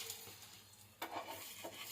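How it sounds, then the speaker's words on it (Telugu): Naan frying in a hot pan, with a soft steady sizzle and a couple of brief scraping stirs, close and fairly quiet, with no talking. "సో ఈ నాన్ ఇలా 1 సైడ్ ఫ్రై చేసుకొని"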